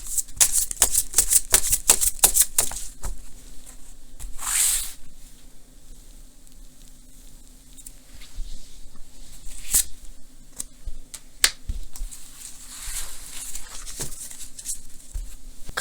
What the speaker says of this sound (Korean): 좋은 카드 한번 뽑아볼게요